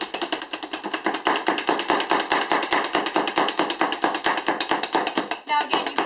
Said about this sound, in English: Now again, you can chop this